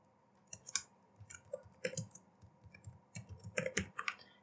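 Irregular bursts of computer keyboard typing as text is entered into an HTML document, clear, close and alone, with short pauses between clusters of keystrokes.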